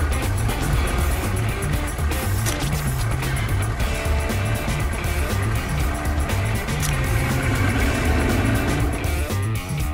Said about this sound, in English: This is a tow truck.